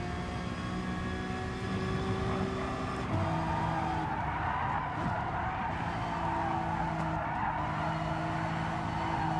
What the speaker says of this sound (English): if I clip this curb wrong, it starts drifting through the corner